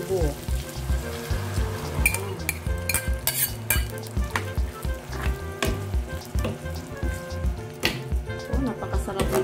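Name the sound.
mung beans added to the pot and stirred while cooking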